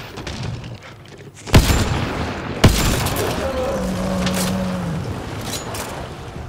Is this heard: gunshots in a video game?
yes